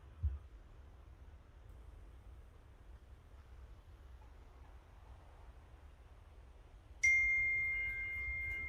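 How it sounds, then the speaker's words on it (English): A short app notification chime on a shared screen arrives near the end, bright and clear over a low hum of background noise, after a faint click earlier; no one speaks. "I just got a notification here that your grievance has been resolved"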